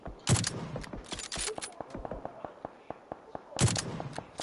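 Bursts of rapid gunfire crackle in short volleys, with scattered single shots between them, sounding like game audio heard at moderate volume, from a battle royale match final.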